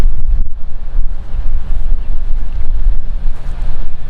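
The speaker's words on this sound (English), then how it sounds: "we got a big time left to right wind" Strong left-to-right wind on an outdoor disc golf course, loud gusty buffeting roar on the microphone that rises and falls continuously, with no voices.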